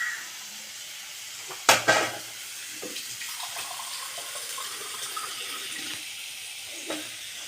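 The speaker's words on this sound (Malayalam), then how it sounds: "കുറച്ച് വെള്ളം കൂടി ചേർക്കണം." Water is poured into a pan of cooking masala squid, a short splash and gush with a faint sizzle and clink of the pan, followed by quiet bubbling, no voices.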